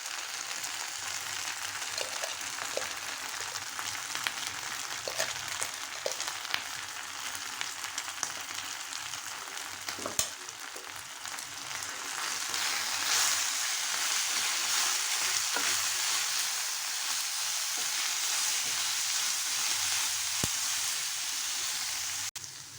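Ground masala sizzles and fries steadily in a hot pan for mutton liver fry, with occasional scrapes and taps of a spoon stirring, the hiss growing fuller toward the end.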